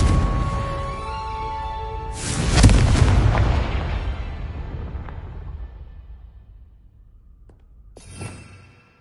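A Confringo fire spell from Hogwarts Legacy bursts into a loud, deep explosion that rumbles and fades over several seconds, followed later by a smaller crack.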